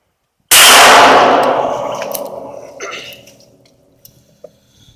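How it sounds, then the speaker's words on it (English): A single loud, sharp report from a Ruger SR 9mm pistol firing Inseptor ammunition through two barrels, with a bright ringing decay over about two seconds and a few faint clinks afterward. "here we go to the Inseptor ammo, shooting through 2 barrels"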